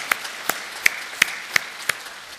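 A church congregation claps in a steady, even rhythm, about six sharp claps over a couple of seconds, with a faint murmur underneath.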